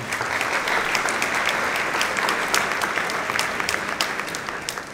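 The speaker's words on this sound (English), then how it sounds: "So let's give them a big round of applause." Hearty, dense applause fills a room at a San Benito high school football banquet as the team is honored, a steady wash of many hands clapping at once, close and loud without voices.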